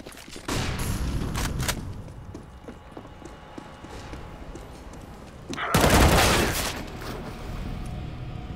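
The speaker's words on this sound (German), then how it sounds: "Throwing Flashbang!" A flashbang grenade goes off in a CS:GO ranked match, a loud burst amid ongoing gunfire and footsteps, with a strong blast near the end standing out over the steady game noise.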